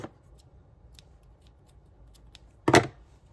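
Scissors snipping the yarn tail of a crocheted fingerless glove: one crisp, close cut near the end, following faint light handling clicks in a quiet room.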